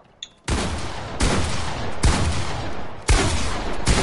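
Long-range gunfire in a video game: four loud, heavy shots spaced roughly a second apart, each a sharp crack with a long booming tail, fairly close and with no talking over them.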